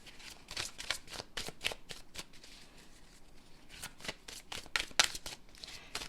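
Tarot cards being handled and shuffled, a quick series of crisp riffling flicks and slaps close by, in uneven bursts with short pauses, no voices.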